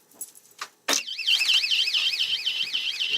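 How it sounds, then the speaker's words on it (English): A security alarm screamer goes off loudly after a few brief knocks, then holds a shrill, steady warbling siren that rises and falls in a fast regular cycle, close and continuous. "That's the alarm."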